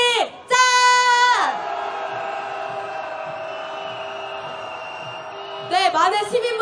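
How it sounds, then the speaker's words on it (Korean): Crowd of candlelight protesters at a Saturday rally in Seoul's City Hall plaza, calling for President Yoon Suk-yeol's impeachment, lets out a loud greeting cheer that surges, holds as a sustained roar with whoops, then swells again near the end. "인사하는 함성 한번 질러보겠습니다"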